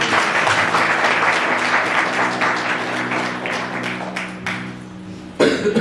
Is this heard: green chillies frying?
no